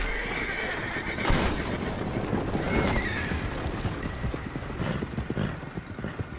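Horse whinnying in Red Dead Redemption 2, a loud close neigh over steady hoof clopping and breezy outdoor ambience, the hoofbeats continuing throughout.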